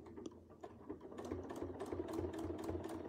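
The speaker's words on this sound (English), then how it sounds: "So I'm stitching right along the existing stitch." A sewing machine doing free-motion quilting runs at a steady, even chatter, with needle strokes repeating in a quick regular rhythm. It starts a little uneven and grows steadier and slightly louder, close by with no talk.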